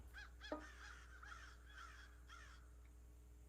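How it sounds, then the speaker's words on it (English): Several crows caw in a rough, repeated series, moderately distant, over a steady low background hum, during a live music set. "Can you hear the crows?"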